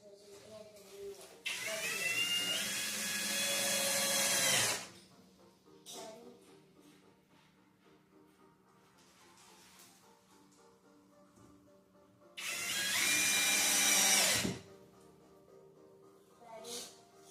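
A power drill drives screws into a drink and coffee bar cabinet in two loud, close whirring bursts of a few seconds each, separated by quieter handling sounds.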